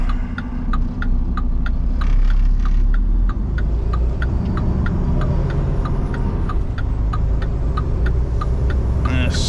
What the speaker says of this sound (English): Morning rush hour traffic.